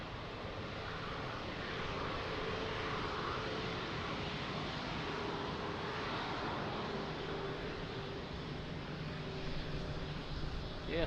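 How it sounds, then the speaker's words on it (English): A medical emergency helicopter flies overhead near Lisbon Airport, a steady broadband engine and rotor roar that holds loud and constant throughout, with no talk over it. "that was a medical emergency helicopter. It's flying to a nearby hospital"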